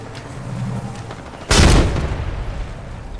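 A grenade goes off in the video game Apex Legends: one sudden, loud, close blast with a broad burst that decays into a rumbling tail over a low ambient bed.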